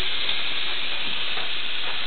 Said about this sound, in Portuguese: Tô lavando a louça.